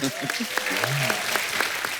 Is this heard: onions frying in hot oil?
no